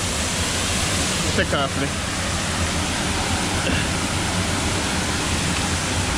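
Steady, loud roar of the Falling Edge Waterfalls in Kingston, Jamaica, close by and continuous throughout, with a brief voice speaking over it.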